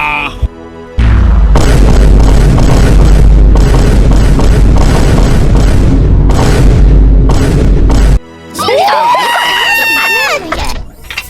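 Cannon fire in an animated Star Wars space battle: a long run of heavy, loud booming blasts in dense succession, breaking off briefly before a burst of high, warbling droid-like electronic chirps and squeals.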